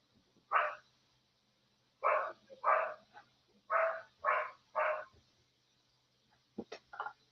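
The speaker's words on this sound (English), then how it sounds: "Excuse the barking dog in the background." A dog barks repeatedly in short, clear bursts, some spaced apart and others in quick runs, ending with a few sharper yips; moderately distant.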